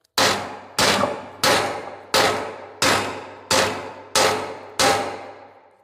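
A steel flatbed trailer fender is struck eight times in an even rhythm, each loud metallic clang ringing and decaying before the next hit.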